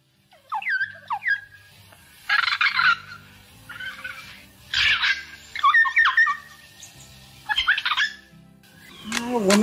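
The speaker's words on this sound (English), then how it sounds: "That's a tui again." A tui calling in New Zealand's Tauranga-Rotorua area: bursts of warbling, squeaky whistles and harsh chattering notes, repeated in clusters with short gaps, fairly close and clear.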